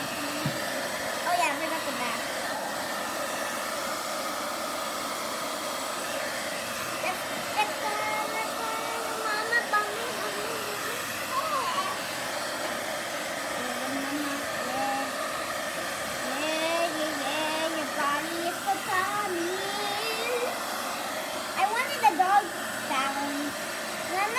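A hair dryer blows steadily throughout as a family dog is dried, a constant close airy whir with faint background sounds over it.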